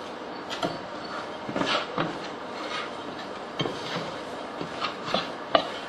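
A spoon works stiff biscotti dough with flour and walnuts in a bowl, giving irregular knocks and scrapes at close range, a few louder than the rest, with no voices.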